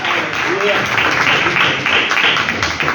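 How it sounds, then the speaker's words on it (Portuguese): Pentecostal church congregation in Mogi Guaçu, Brazil, applauding a singing group, sustained steady clapping filling the room with voices heard through it. "Vamos receber o grupo com palmas para Jesus."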